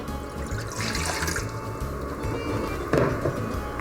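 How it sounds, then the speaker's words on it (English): One cup of water poured into an Instant Pot, a steady splashing trickle over about four seconds with a brief louder gush near the end. "first we're gonna add 1 cup of water."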